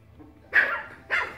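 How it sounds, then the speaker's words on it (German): A puppy gives two sharp, close barks about half a second apart in a quiet room. "Ja, wer bellt denn da?"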